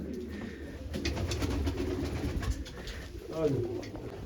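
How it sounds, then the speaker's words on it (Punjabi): Large pigeons, among them a female, coo in low throaty rolls nearby while people talk over them and the birds shuffle around. "ਇਹ ਜੇ ਇੱਕ ਕਬੂਤਰੀ ਹੈ"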